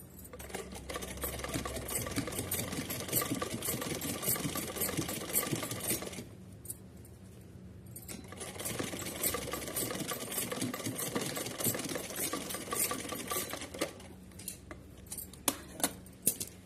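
A sewing machine stitches pleats on a small Laddu Gopal summer dress with a steady close whirring, briefly stopping midway before resuming, and a few sharp clicks near the end.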